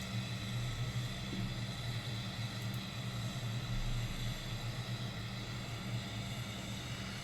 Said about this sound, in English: We can hear our APU going.